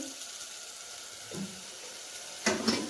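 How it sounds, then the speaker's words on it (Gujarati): Dal tempering (vaghar) sizzles in hot oil, a faint, steady hiss that runs throughout, with a brief clatter near the end. "અહીંયા અમે દાળનો વઘાર કરી દીધો છે"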